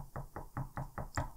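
Six evenly spaced knocks on a door, faint and fairly close, tapping in a steady rhythm with nothing else heard.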